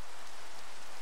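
Rain falling in Minecraft, a steady even hiss of downpour throughout with no voices.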